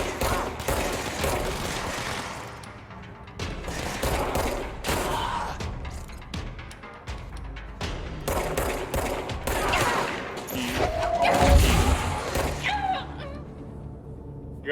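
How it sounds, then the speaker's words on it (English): Chaotic combat in the game Control with a grenade blast among bursts of gunfire, loud rapid shots and crashing impacts spread across the clip, with a heavier thump standing out near the end. "I got blasted by a grenade or something"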